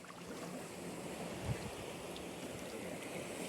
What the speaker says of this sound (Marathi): पण इथे बघा ही एकदम उचंबळून येतोय तिकडे लाटा.